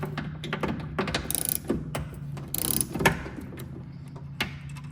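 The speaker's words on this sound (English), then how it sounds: "I like to go through and loosen them all up before fully removing the bolts." Ratchet wrench loosening the side mirror bolts on a 2014-2020 Lexus IS, heard as close, rapid clicking bursts that start and stop over a few seconds.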